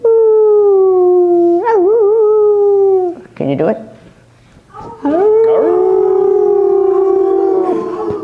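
Several people imitate dogs baying, drawn-out howling voices rising and wavering for a few seconds, a short break with scattered voices, then a second longer chorus of mimicked howls.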